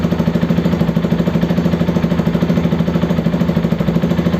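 A car engine runs at a steady idle with a rapid, even mechanical pulse, close and moderately loud throughout, with no talking.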